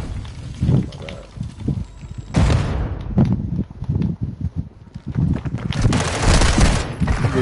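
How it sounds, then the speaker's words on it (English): Gunfire from the video game Call of Duty crackles in dense bursts and rapid volleys, heard together with voices talking over it throughout. "Beat his ass. I'm taking fire."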